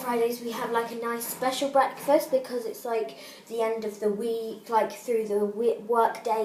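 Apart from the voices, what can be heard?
No everyday noise stands out behind the speech.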